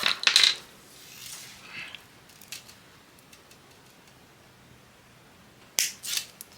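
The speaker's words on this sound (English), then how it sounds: "Got a little bit of chain, which we will chop." A small jewellery chain is snipped with cutters: a few quick, close metallic clicks and tinkles at the start and again near the end, with near silence in between.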